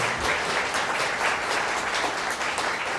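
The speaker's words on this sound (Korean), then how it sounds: "이렇게 부부로 거듭나는 두 사람 위해 다시 한번 뜨거운 박수 보내주시면 감사하겠습니다" Wedding guests in a convention hall applaud the newly married couple after the officiant's declaration, a steady, warm wash of many hands clapping at moderate loudness throughout.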